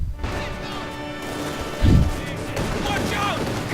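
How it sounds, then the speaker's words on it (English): In a Company of Heroes 2 battle, a Sturmovik ground-attack aircraft fires its cannons as a short, loud burst of rapid impacts, set against steady background battle noise. "Sturmovik unleashing its cannons on the nearby pack"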